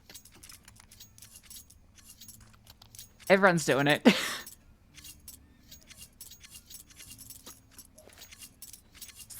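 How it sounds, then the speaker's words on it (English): A butterfly knife flipped quickly in Counter-Strike gives a short burst of rapid metallic clicks and jingles lasting about a second. A brief spoken phrase comes before it, and quiet game ambience sits around it. "I love the sound of the quick switching butterfly knife."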